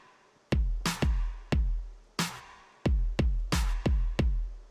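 A trap drum beat: deep booming kicks in a choppy pattern alternating with bright layered snare cracks that carry reverb tails, loud and up front, with no voices.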